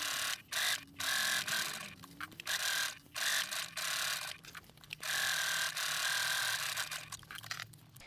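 A sewing machine bastes around three edges of layered fabric for a convertible tote-to-backpack bag, stitching in steady bursts broken by short pauses, close up with no talking.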